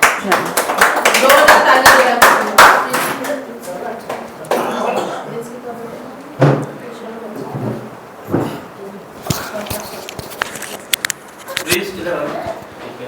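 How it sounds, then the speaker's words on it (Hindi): A church congregation at a Sunday meeting breaks into loud applause of thanks, clapping densely at first and then tapering into scattered claps mixed with talk and stray sounds. "इसके लिए हम धन्यवाद करके ताली बजा के परमेश्वर को धन्यवाद"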